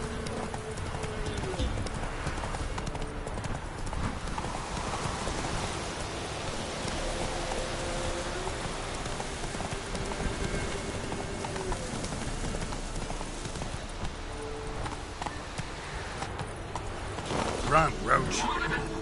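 Hooves of Roach, a horse in The Witcher 3 video game, clip-clop steadily at a run through a rainy outdoor scene, the steady patter of rain underneath and a brief louder burst near the end.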